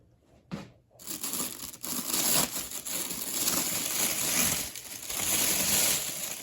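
Paper packing crinkles and tears while a Pure Arts Lord of the Rings Witch King art mask is unboxed, a continuous close, busy rustle with sharp crackles running for several seconds.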